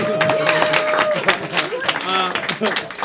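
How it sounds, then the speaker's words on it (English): Audience applause for performers at a live theatrical show, dense clapping with cheers and whoops mixed in, loud and sustained throughout. "So clap it up for the wizards."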